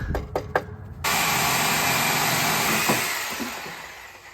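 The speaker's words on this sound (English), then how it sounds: "Maybe I have to saw this wood block in half." A wood block is sawn in half during a Lexus LS400 motor mount swap. A few knocks come first, then a power saw runs loud and steady for a few seconds before winding down.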